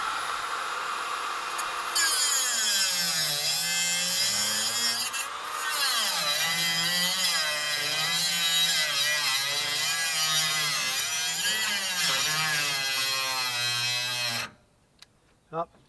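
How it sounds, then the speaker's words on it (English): A Harbor Freight electric high-speed cutoff tool cuts steadily near a utility trailer, with a loud whining grind that wavers in pitch for about fourteen seconds before stopping abruptly, followed by near silence and a couple of small knocks. "This is a Harbor Freight high-speed cutoff tool, and it's electric."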